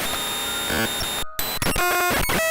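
Loud, harsh electronic noise from a television, shrill tones and bursts of static, chaotic and grating, cut by a brief near-silent gap midway.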